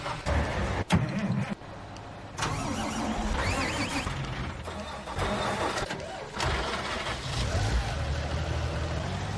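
A farm truck engine in Farming Simulator 19 starts up and runs at a steady mid-pitched drone, with a few sharp clicks and brief dips between stretches of driving.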